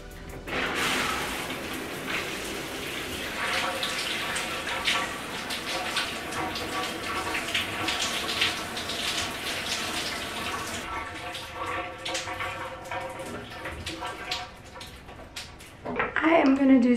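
Shower water runs in a steady, hissing spray with light splashing, while a person speaks over it throughout.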